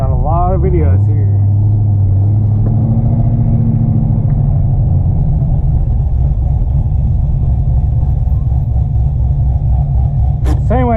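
A supercharged 650 hp Corvette cruises with a deep, loud, continuous engine rumble close by, and a brief rev at the start.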